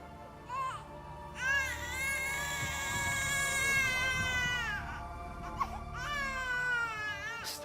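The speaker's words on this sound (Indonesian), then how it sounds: "Terdengar seperti suara bayi. Tapi di mana ya?" Baby crying in an Indonesian TV drama, repeated wailing bursts with strained rising and falling pitch, moderately loud and fairly close, with short pauses between cries.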